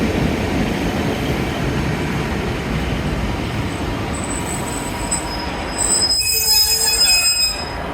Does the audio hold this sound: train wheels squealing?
yes